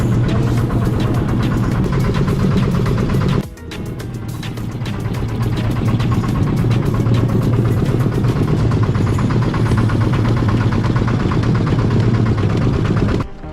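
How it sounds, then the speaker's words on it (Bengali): A motor boat engine runs steadily on the Mukutmanipur reservoir, a loud, close, continuous drone with a brief dip near the start and another at the end. "নৌকা কিন্তু চলতে শুরু করেছে।"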